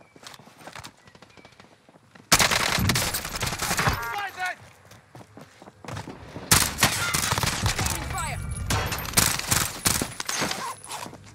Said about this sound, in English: He shot and he missed.